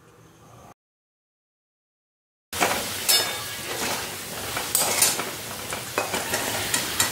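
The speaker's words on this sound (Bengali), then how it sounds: "আলুগুলো ভাজা হয়ে গেছে" Potatoes fry in oil for a spicy mutton liver curry, a close sizzling hiss that starts after a short silent gap, with spatula scrapes and clinks of stirring over the steady crackle.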